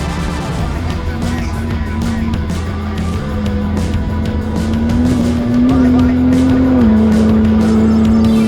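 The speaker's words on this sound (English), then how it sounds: "here we are with our Ford Bronco Raptor from Canada" A Ford Bronco Raptor rally car drives through the desert at the Dakar Rally, its engine holding a steady loud drone that climbs slightly in pitch, heard up close with faint chatter in the background.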